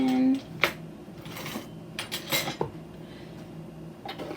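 A spoon stirs ingredients together in a mixing bowl, giving scattered metallic clinks and scrapes against the bowl at an irregular rhythm, close by.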